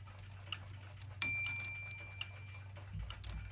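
A Shield clock runs on a temporary weight and pendulum rod setup, ticking faintly and steadily. One sharp metallic strike rings out early and decays slowly over about a second.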